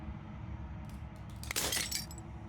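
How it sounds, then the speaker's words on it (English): Glass shatters in the video game Slay the Princess: a sharp bright crash with tinkling fragments after a few small clinks, over a low ambient hum. "As the final fragment of glass shatters"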